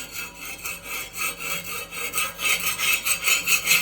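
A metal spatula scrapes thick, hardened burnt crust off an iron tawa griddle in quick, rhythmic back-and-forth strokes, a loud gritty rasp growing stronger toward the end, with no voices.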